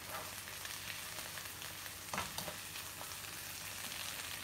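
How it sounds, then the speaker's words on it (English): Food frying in a pan while being stirred with a utensil, a steady close sizzle with occasional scraping and clinking stir sounds, no talk over it. "he's letting me stir the food"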